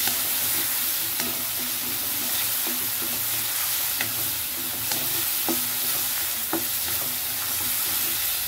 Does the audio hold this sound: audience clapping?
no